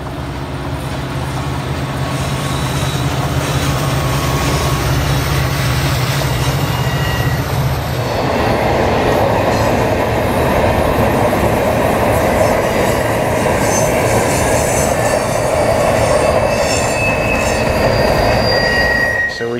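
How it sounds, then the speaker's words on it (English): A train rumbles past close by at Tehachapi Loop, loud and continuous, with wheels squealing and clattering on the rails as the cars roll through. "This is the one we've been waiting for, so here it comes."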